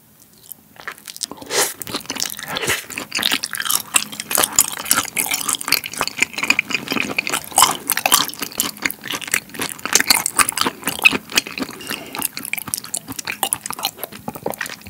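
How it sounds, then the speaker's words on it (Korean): Close crunchy chewing and biting of thin slices of raw beef brisket sashimi (chadol), served with green onion and egg yolk, in repeated wet bites and chews with no talking. "자, 그러면 차돌 먼저 먹어볼게요."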